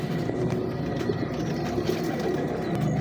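A female pigeon coos softly in low, murmuring notes over a steady background hum, fairly faint and continuous.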